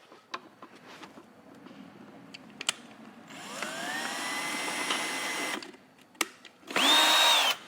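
A power drill whirs up in two bursts as it makes new holes in old junk-pile items, its motor pitch rising then holding, close and moderately loud, between scattered clicks and knocks of handling.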